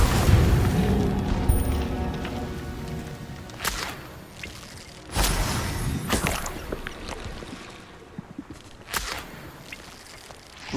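Fire spell blasts cast in Hogwarts Legacy, several sharp whooshing bursts spaced a second or two apart over a low rumbling game backdrop, each flaring loud and then fading.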